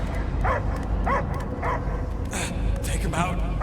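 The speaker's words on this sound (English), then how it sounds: "I hear only barking." Dog barking and yipping in the video game Guardians of the Galaxy, three or four short close barks at a steady pace over constant game ambience and music.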